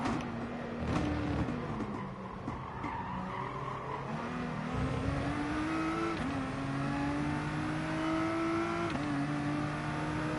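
A race car engine revs and accelerates steadily in Gran Turismo on PS4, its pitch climbing through gear changes, loud and continuous, with tire squeal layered over the engine drone.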